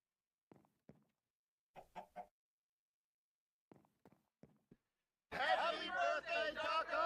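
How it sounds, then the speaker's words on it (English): Chickens in a video game give a few sparse, quiet clucks separated by silence, then a denser burst of louder clucking and busy game noise near the end. "buy a chicken"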